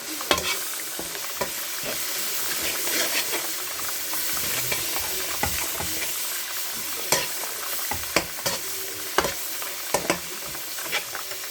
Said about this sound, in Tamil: இஞ்சி பூண்டு பேஸ்ட் போட்டுக்கலாம். நல்லா கிண்டி விட்டுக்கணும்.